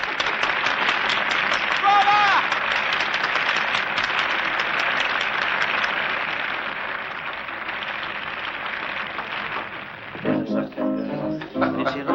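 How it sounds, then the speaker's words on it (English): A theater audience breaks into sustained applause, many hands clapping together loudly for about ten seconds before it fades and a voice begins speaking. "Now he claps."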